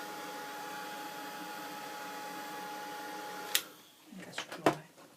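A heat tool blows a steady whirring hiss for several seconds while drying paint on an MDF craft tag, then cuts off and is followed by a few close knocks and clicks.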